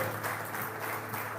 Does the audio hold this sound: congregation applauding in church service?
yes